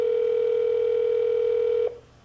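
A steady telephone dial tone drones loudly and evenly after a call to Verizon is hung up, then cuts off abruptly near the end, leaving faint background hiss.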